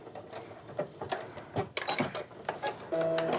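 Sewing machine stitching and reinforcing the seams of a tote bag, a run of quick mechanical clicks and whirs in short bursts ending in a steadier hum, close and moderately loud with no talk.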